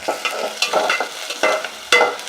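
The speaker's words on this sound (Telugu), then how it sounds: "బిర్యానీలోకి ఫస్ట్ ఎర్రగడ్డలు వేసుకొని ఎర్రగా వేయించుకుంటే బాగుంటుంది అన్నీ వేసే కంటే ఇవి బాగా ఎర్రగా వేయించుకోవాలి ఫ్రైడ్ ఆనియన్ లాగా" Sliced onions fry in hot oil for an Andhra-style veg pulao, a close, steady sizzle broken by repeated scraping stirs of a spoon against the pan.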